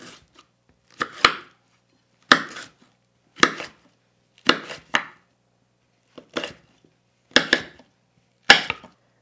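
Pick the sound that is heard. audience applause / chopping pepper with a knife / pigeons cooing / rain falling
chopping pepper with a knife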